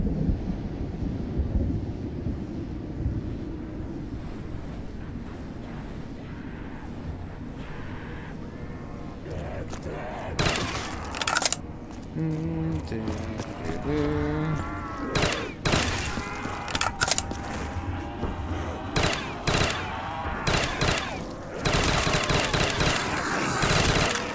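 Rapid automatic gunfire from shooting zombies in Call of Duty on a custom truck stop zombies map, with dense bursts and single shots stacking up over the second half after a quieter stretch.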